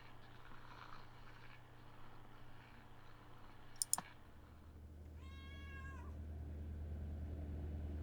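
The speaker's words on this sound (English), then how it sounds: "That's the in-game cat now." A cat meows in the video game Kentucky Route Zero, a single clear drawn-out call near the middle, following a sharp click, with low ambient hum throughout and no talking.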